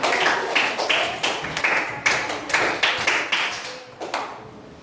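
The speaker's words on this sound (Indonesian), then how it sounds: "beri tepuk tangan untuk kelompok halan." Students clap for a group in an elementary classroom, a close burst of hand clapping that surges in uneven rhythmic waves before fading out.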